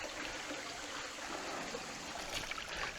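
A small forest stream trickles and babbles continuously at low volume, an even wash of water with no voices.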